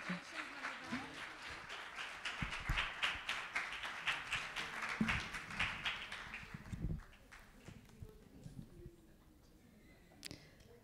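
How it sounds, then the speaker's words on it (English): Audience applause at an energy storage and green hydrogen awards event, a dense wash of clapping for about seven seconds that then thins out to scattered claps. "Can we have a huge round of applause for her?"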